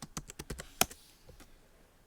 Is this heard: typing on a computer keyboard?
yes